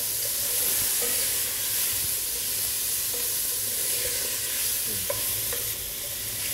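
Meat sears in a pan with cubed butter and aromatic garnish added, giving a dense, steady sizzle and hiss with light stirring scrapes and clicks, loud, close and unbroken.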